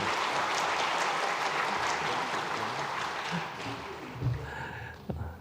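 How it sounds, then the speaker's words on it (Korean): A church congregation at a Sunday worship service claps in celebration, a broad round of applause that thins out near the end, where a few stray sounds and a brief voice emerge. "여러분 마음 다해 축하하며 박수하겠습니다"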